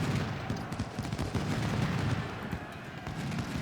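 A continuous, distant roar of massed musket fire in the Civil War video game Ultimate General: Civil War, crackling volleys blending into a steady battle din.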